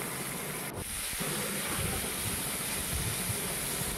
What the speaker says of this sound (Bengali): চিংড়ি মাছটাকে একটু ভেজে নিচ্ছি।